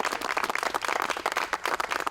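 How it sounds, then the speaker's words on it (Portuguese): A church congregation clapping loudly and steadily in praise of Jesus, a dense, even round of applause with little else heard. "Vamos aplaudir Jesus bem forte?"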